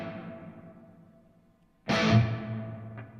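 Electric guitar played through an Axe-Fx III modeler with reverb: a sustained, distorted note rings out and decays, then a loud new chord strikes and lingers with a wash of reverb tail.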